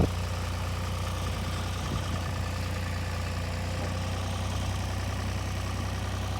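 A heavy 5,000-pound tractor engine runs at a steady low rumble, close and continuous, with no voices over it.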